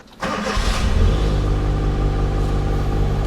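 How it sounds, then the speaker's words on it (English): A small turbocharged Suzuki Cappuccino engine catches and settles into a steady, close idle with a low rumbling hum. "I'm gonna stand over here so you can hear the engine. It sounds pretty good."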